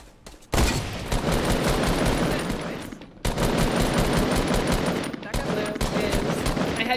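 Dense, loud automatic gunfire from Fortnite: Battle Royale squad combat, in two long rapid bursts separated by a short break near the middle, with a voice talking faintly underneath.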